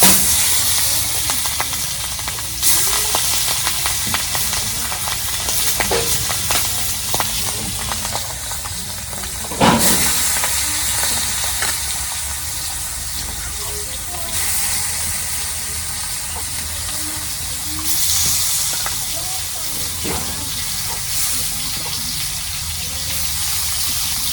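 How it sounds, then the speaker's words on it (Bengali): Pangas fish seasoned with salt, turmeric and dried chilli fries in hot oil, giving a continuous close hiss and sizzle with occasional louder spits and crackles. "তেল গরম হচ্ছে, এখন মাছ ভাজবো।"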